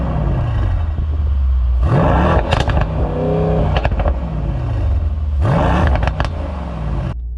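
A 2019 Mercedes-AMG E63S with its exhaust in sport mode, set in race mode, is revved repeatedly: loud, deep engine blips rise and fall over a heavy idle rumble, with crackles between the revs.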